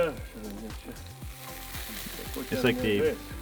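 Thick pork belly slices, bacon-cut with the skin on and marinated in paprika, herbs and garlic, sizzle over a wood fire, crackling steadily with clattering handling noises.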